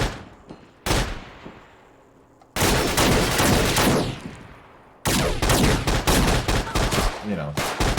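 A Colt Mk.40 automatic cannon fires in Fallout 4, bursts of loud, heavy booming shots with rolling echoes, ending in a rapid string of rhythmic rounds.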